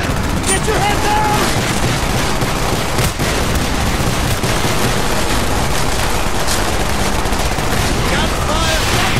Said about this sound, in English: Gunfire back at the canister!